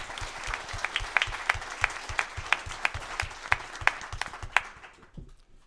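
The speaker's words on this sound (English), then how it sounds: "So can we get a little clap?" Audience at a writers' conference keynote breaks into steady, fairly close applause, a dense run of claps for about five seconds before it quickly dies away.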